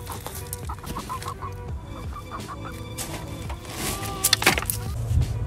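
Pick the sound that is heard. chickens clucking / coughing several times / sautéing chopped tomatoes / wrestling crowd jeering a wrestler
chickens clucking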